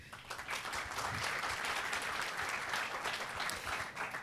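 Forum audience on corruption in Colombia, in Cúcuta, applauds after the governor speaks, a steady, full round of many hands clapping from a crowd at moderate distance, continuing throughout without talk.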